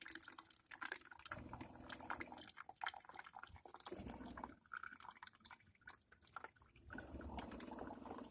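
Water slowly trickling and dripping into a bottle, a faint, irregular splashing and gurgling that starts and stops in uneven bursts, heard alone without voices.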